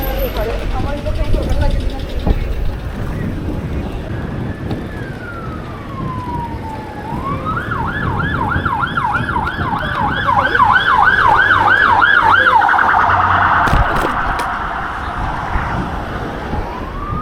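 A police car siren on a city street in the UK, heard from a bicycle, first wails in long rising and falling sweeps, then switches to rapid whooping yelps that grow louder over road traffic noise, with occasional voices nearby.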